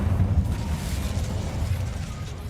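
Incendio fire spell cast in a Harry Potter video game, a low rushing whoosh of flames with rumbling crackle, moderately quiet and sustained without speech.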